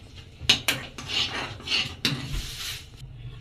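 A utensil scrapes and stirs through milk pudding in a pot as vanilla is mixed in, giving a few sharp clinks followed by soft rasping strokes, close and alone.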